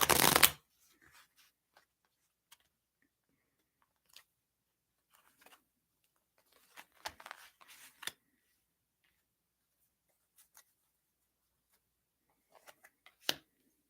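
Tarot cards being shuffled: a loud riffle burst at the start, then scattered soft flicks and ticks, with a brief cluster of shuffling near the middle and a few snaps toward the end, all in a quiet room.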